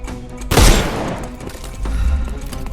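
Gunfire in Sherlock Holmes: Chapter One: a loud, close burst of several rapid shots crackles for about half a second, then a softer, lower rumble of fire follows a second later.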